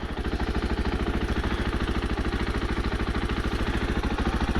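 A 2021 KTM 500 EXC-F dirt bike idling with an uncorked exhaust, a steady, rapid, throaty thumping pulse held close and even throughout with no talk.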